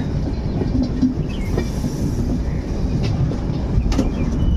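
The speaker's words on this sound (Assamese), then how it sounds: "এতিয়া মানে দলঙৰ এৰিয়া লাহে লাহে গৈ আছে ট্ৰেইন" A train rolls slowly across a bridge, giving a close, continuous low rumble with scattered wheel clatter and faint squeals, and no voices.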